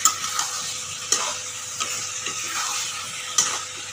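Soybean curry with potatoes sautés in a pan with a quiet, continuous sizzle, broken by a few light clicks and scrapes of a spoon against the pan.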